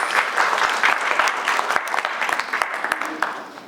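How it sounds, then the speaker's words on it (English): An audience at a literary event in Raipur gives a warm, sustained round of applause, dense clapping from many hands filling the room at close range and tapering slightly toward the end, with no voices. "A big round of applause for you guys."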